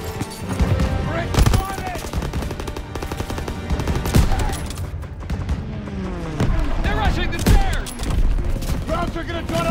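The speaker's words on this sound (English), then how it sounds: "Come on, they need cover fire! Suppressive fire! Keep firing!" Dense suppressive gunfire from Call of Duty: WWII, a sustained loud barrage of rapid machine-gun bursts and rifle shots with scattered booms, with shouting voices mixed in throughout.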